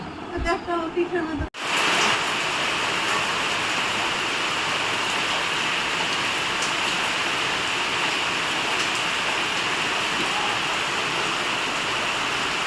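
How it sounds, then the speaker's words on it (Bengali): Steady hiss of heavy rain pouring down, broad and continuous, after a brief moment of voices at the start that cut off abruptly. "আজকে কি বৃষ্টি শুরু হয়েছে"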